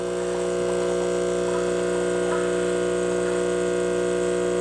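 An espresso machine pulls a shot with a steady electric pump hum, a constant mid-level drone with no breaks, heard close and alone.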